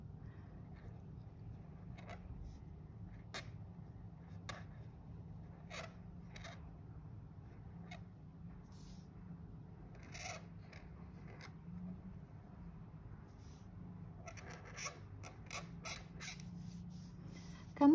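A marker squeaks and creaks as it draws lines on paper, with faint, short, irregular strokes repeating over a quiet background, in clusters that grow busier toward the end.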